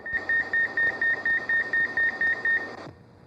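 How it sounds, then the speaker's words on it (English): A McDonald's Chicken McNuggets fryer duty timer from 1983 sounds a rapid run of about a dozen identical high electronic beeps in even rhythm, signalling to shake the basket, then cuts off into quiet kitchen hum. "That's your duty timer telling you it's time to shake basket at duty cycle"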